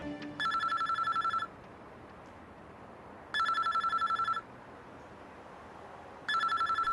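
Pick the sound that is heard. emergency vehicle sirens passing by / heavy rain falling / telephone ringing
telephone ringing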